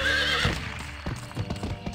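Horse hooves clip-clopping in the video game GUN, with a whinny over the start, then a run of steady hoofbeats close up beneath busy game music.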